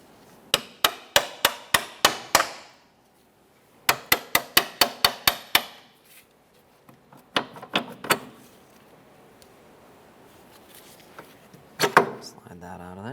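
Sharp metallic hammer taps knock a rear CV axle out of place on a 2007-2017 Jeep Patriot 2.4L, coming in two quick rhythmic runs of about seven blows each, followed by scattered lighter knocks, with quiet talk between.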